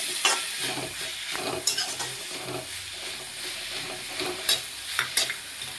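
Veg noodles being stir-fried with salt and ajinomoto, giving a steady sizzle with repeated scraping and clattering strokes of a utensil against the pan, close and even.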